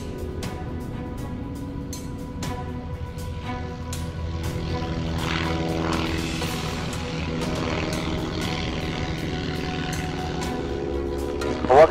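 A propeller airplane departs at a light-aircraft fly-in, its droning engine rising gradually in loudness and pitch over twelve seconds against outdoor background, with faint voices nearby.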